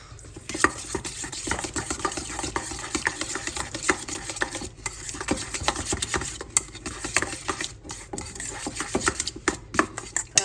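A spoon briskly stirs burger seasoning of paprika, pepper and garlic powder in a bowl, producing steady close scraping and rubbing strokes in a fast uneven rhythm.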